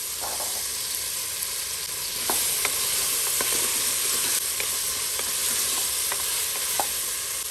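Diced potato, carrot and beans fry in oil for masala pulao, giving a loud, continuous sizzle close by. A spoon stirs and clinks against the pan again and again.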